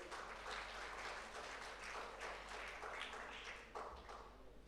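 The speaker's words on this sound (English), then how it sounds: "let's give a big round of applause to Mr. Bilal Umanu." An audience at a formal ministerial launch event applauds steadily, a dense wash of many hands clapping at moderate distance, fairly faint and unbroken.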